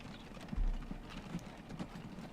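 Horse cart hooves in Transport Fever, an American-style cart clip-clopping in a slow steady rhythm, faint and somewhat distant against a low rumbling game background.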